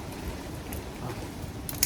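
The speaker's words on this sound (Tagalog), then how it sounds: "Ayan na, lumalakas na nga yung ulan." Rain falling steadily outdoors at a pigeon loft, a soft continuous hiss of drops on surfaces with a few louder patters near the end, fairly faint and without talk.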